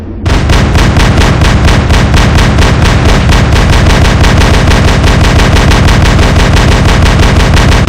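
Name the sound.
big robot guns firing in a video game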